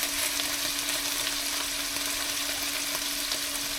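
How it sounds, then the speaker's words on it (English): Wild hog adobo meat searing in a hot pan, a steady, loud, close sizzle and crackle of frying that holds constant throughout with no talking. "Should get a good sear on it now, brown up nice."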